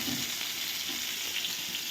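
Cauliflower frying in oil gives a short, continuous hiss of close sizzling with faint stirring touches, fairly quiet and free of speech.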